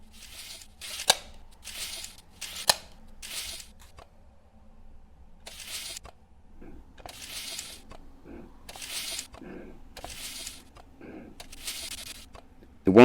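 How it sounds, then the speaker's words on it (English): A tape measure is pulled out in a series of short rasping bursts, each a second or so long with quiet gaps, faint low noise between them and a sharp click at the end. "Tape measure."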